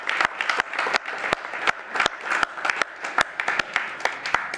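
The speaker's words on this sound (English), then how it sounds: "we want to give you a separate round of applause" An audience applauds at a city commission meeting, steady clapping from a crowd with sharp individual claps standing out, close and sustained throughout.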